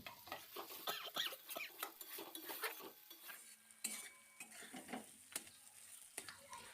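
Freshly ground spice paste and chopped tomato being stirred in a pan for a drumstick-stem vegetarian dish, with steady scraping and soft clatter of a spoon over a faint sizzle, close but quiet and continuous.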